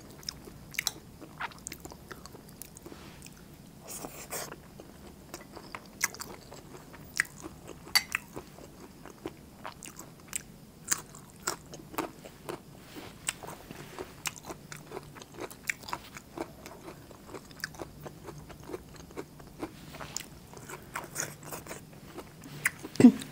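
Someone eating steamed catfish with roe, young galangal and vegetables with dipping sauce, close crunchy bites and chewing repeating steadily throughout at a near, moderate level.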